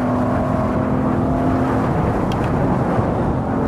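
An Audi RS6 in Assetto Corsa builds revs in a loud, steady engine whir. A rising tone runs through the first half and then blends into a dense, even roar, with no voices.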